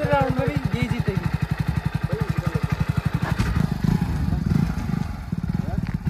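A Hero Splendor motorcycle and a Hope OXO electric bike line up for a drag race, with a loud, close single-cylinder engine chugging in a rapid even pulse throughout while someone talks over it.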